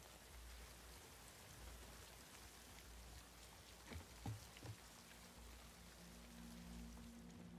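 Steady rain falls in The Last of Us Part II, a faint, even hiss throughout with a few brief thumps midway and a low tonal hum joining near the end.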